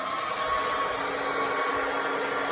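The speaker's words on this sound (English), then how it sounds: "Then my trusty hairdryer." A hair dryer blows steadily on high at plastic shrink wrap, a loud constant whirring hum with airy hiss, no voices.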